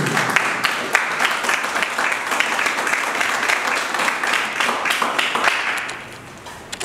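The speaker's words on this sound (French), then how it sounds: "J'aimerais déjà qu'on applaudisse pour tous ceux qui sont présents aujourd'hui" An audience at a film project event applauds loudly and continuously, dense overlapping claps close by, tapering off slightly near the end.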